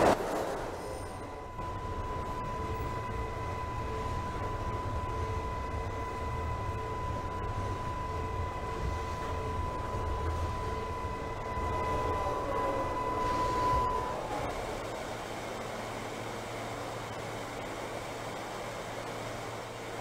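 A Queensbound NYCT J local subway train runs in Trainz Simulator 2012, near Flushing Avenue: a steady close rumble with a sustained whine that shifts and drops in tone near the end.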